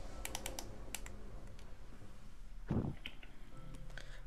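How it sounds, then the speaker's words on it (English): Quick plastic game controller button clicks tap in short clusters during Minecraft play, close and fairly quiet, with one dull thump partway through over a low background hum. "I hate how you can hear me clicking the buttons in the commentaries"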